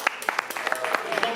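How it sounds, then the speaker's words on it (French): An audience claps for a barbecue contestant at a grilling show, a short burst of scattered, uneven handclaps close by. "Alors, à présent, nous applaudissons Jean-Claude."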